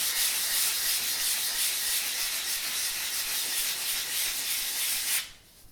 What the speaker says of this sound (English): So just a little bit of gentle sanding.